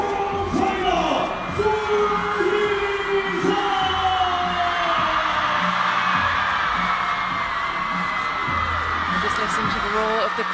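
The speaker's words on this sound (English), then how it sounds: "Listen to the roar of the crowd." A large arena crowd roars and cheers continuously for a table tennis player's entrance at a world tour event in China, a loud, sustained wall of voices with whoops and yells.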